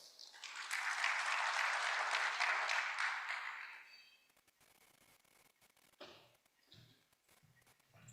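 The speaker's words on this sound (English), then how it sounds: "Please welcome him with a round of applause." An audience at a technology conference opening session claps in welcome, a dense burst for about four seconds that fades out, leaving quiet room noise with a few scattered claps and rustles.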